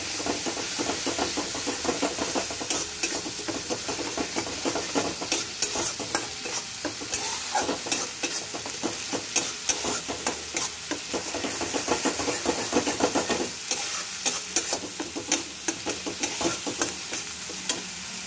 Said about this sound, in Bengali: আলুগুলো পনিরও সব দিয়ে দেবো। একটু কষি নেব